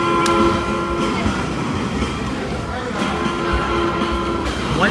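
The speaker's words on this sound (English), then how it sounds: "One strategy is to let the train go and then go, because after the train goes, it becomes safe for a long time." In a pier arcade game a train passes with steady rumbling, rail clatter and brief horn-like tones. The noise is continuous against a busy arcade background, with a voice talking over part of it.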